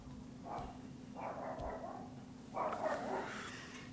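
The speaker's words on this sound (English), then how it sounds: "Here, a little dog." A small dog gives a few soft barks and yips indoors at night, three or four short separate bursts with quiet gaps between them over a low steady hum, fairly faint, with no talk.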